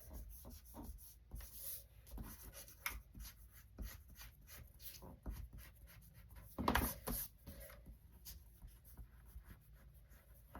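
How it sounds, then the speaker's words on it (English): A large eraser rubbing a pencil line off paper on a scrapbook layout, heard as repeated short scrubbing strokes in an uneven rhythm, close and fairly quiet, with a louder burst of rubbing near the end and no talking. "gonna erase that pencil line just because it's getting on my nerves"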